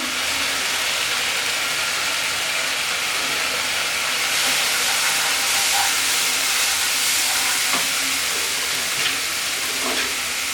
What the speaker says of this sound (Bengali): তেলের মধ্যে ভালো করে মশলাটা কষিয়ে নিয়েছি